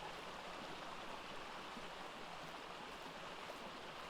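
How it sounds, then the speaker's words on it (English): Steady, dense rush of a waterfall beside a player's base in the video game ARK, a constant broadband roar with no pauses, close and unbroken for the whole stretch. "now all you ever hear is the damn waterfall"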